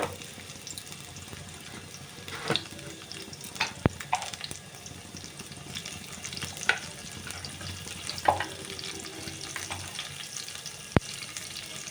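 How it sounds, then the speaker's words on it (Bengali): Potatoes fry in oil in a wok, with a continuous sizzle broken by occasional sharp clicks and scrapes of stirring. "কড়াইতে যেই পরিমাণে তেল আছে এখানে আমি আলুগুলো দিয়ে দিলাম আলুগুলো ভাজার জন্য"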